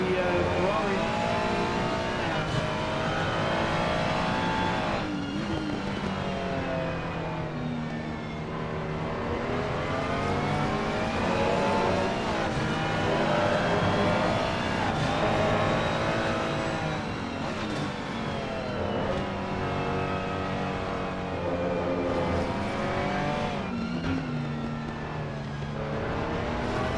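Several race cars, a Ferrari among them, lapping Paul Ricard in a sim racing event, engines droning and revving continuously throughout with shifting pitch, loud and steady under a running commentary voice.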